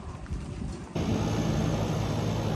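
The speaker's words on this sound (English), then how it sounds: "Sorry about the noise. My AC is kicking and I can't do anything about it." An air conditioner kicks on suddenly after a quieter start and keeps up a loud, steady, broadband roar and hum to the end.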